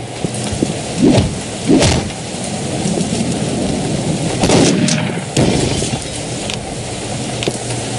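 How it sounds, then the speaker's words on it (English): Rockets fire and explode in the video game Postal 2: several heavy booming blasts rise out of a dense, roaring rumble, close and loud, with no talk. "I don't know who's shooting the rockets."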